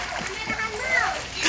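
A child splashes and swims in water during a swim session, with steady close-up splashing and churning throughout while a voice speaks over it.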